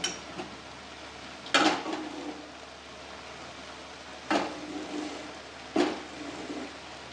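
Steamed egg tipped out of a cooking pot, heard as three short metallic clanks and scrapes spaced apart over a quiet kitchen background.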